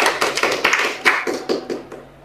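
Audience clapping their hands at a religious talk, a short burst of rapid, uneven claps up close that fades out after about two seconds.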